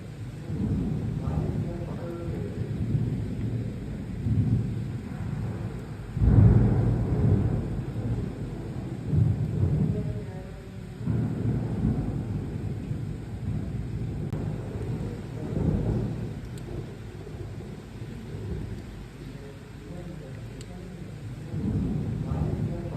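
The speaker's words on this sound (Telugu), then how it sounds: "నిన్న రాత్రి నుంచి హైదరాబాద్ అంతటా కూడా పలు ప్రాంతాల్లో ఉరుములు మెరుపులతో కూడిన వర్షాలు భారీగా" Heavy rain falls across Hyderabad with rumbling thunder, low rolling booms swelling and fading over a steady wash of rain, moderately distant, with faint speech in the background.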